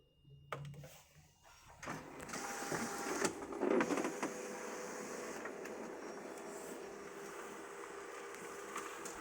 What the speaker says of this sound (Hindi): स्टैम्प पेपर के ऊपर तहरीर बिल्कुल सही तरीके से प्रिंट हो चुकी है